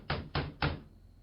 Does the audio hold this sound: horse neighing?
no